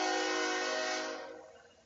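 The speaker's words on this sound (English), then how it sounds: "one moment, train coming by." A train horn blares as a train passes through downtown Fort Lauderdale. One sustained, loud, chord-like blast holds steady, then fades as the train moves away.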